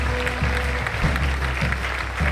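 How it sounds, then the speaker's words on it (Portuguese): Church congregation applauding together in a steady, sustained round of clapping that fills the hall, with no voices rising above it. "Igreja, será que nós dar um aplauso a estas pessoas pela fantástica decisão que tomaram hoje?"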